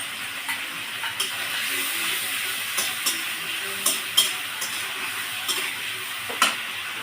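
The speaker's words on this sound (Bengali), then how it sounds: "মশলাটা বেশ আমি একটু ভালো করে কষিয়ে নেব" Spice paste being fried and stirred in a pan for a Bengali aubergine dish: a steady soft sizzle with light scraping and tapping of the spoon at irregular moments, close and moderately quiet, with no talk.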